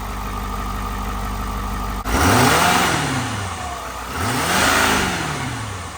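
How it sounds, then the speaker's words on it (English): A 2023 Ford F350 with the 6.7 diesel and factory intake idles steadily, then revs up twice in loud, close bursts that swell and fall back, with no talking. "we revved it up a couple times just to give you a better understanding of the sound of the factory intake system"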